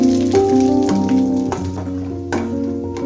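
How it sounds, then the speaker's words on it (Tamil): Chopped cashews and almonds frying in ghee in a pan for vermicelli payasam, a steady close sizzle with faint stirring and scraping sounds, no talking. "பொடியா கட் பண்ணி வச்சிருக்க முந்திரியும் பாதாமையும் சேர்த்து நல்லா பொன்னிறமா வறுத்து எடுத்துக்கலாம்"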